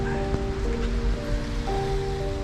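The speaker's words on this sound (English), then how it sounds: "Walking around in the rain." Steady rain patter over a low outdoor rumble, with a faint tonal hum running through and no voices.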